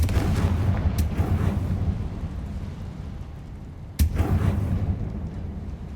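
Explosive blasts from Confringo curses in the Hogwarts Legacy video game, two sharp bursts roughly three seconds apart, each followed by a rumbling, crackling tail over steady loud low-end battle noise, with no voices.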